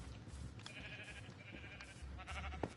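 Sheep bleating in the Minecraft video game, a few faint short bleats over a low background hum, with no talk.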